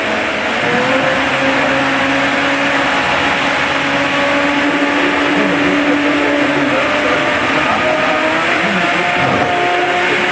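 Vitamix blender with a plunger blending a breakfast smoothie, producing a loud, continuous motor roar that stays steady throughout at close range.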